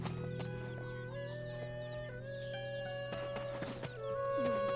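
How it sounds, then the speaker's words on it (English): Horse hooves clip-clop in the Black Desert Online video game, mixed with fowl clucking over a steady tonal game soundscape. "somebody parked their horse"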